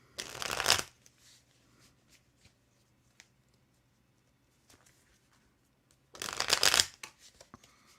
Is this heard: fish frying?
no